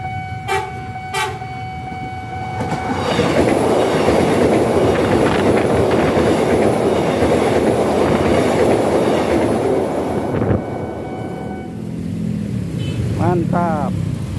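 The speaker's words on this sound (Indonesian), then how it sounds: "untuk mendengar seperti apa suaranya pas kereta api melintas di jembatan" An airport train, an old Tokyu 8500 electric commuter train, rumbles loudly across a bridge at speed with a steady rolling roar, a horn tooting briefly at the start and voices talking near the end.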